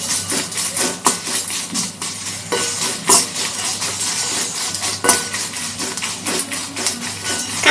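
Dried red chillies fry in oil in a pan, giving a steady close sizzle broken by scattered metallic clinks and scrapes of stirring.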